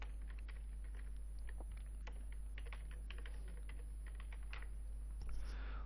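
Rapid typing on a computer keyboard while configuring a MikroTik router, the key clicks coming in quick irregular bursts over a constant low electrical hum, close and fairly quiet.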